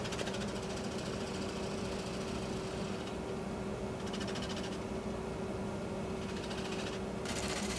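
A wood lathe spins a spalted maple bowl while its bottom is flattened, giving a steady, loud, continuous whirring drone with a constant motor hum, heard alone without talk.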